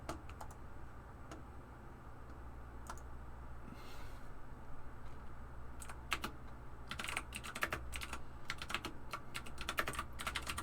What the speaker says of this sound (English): EJ is furious typing now.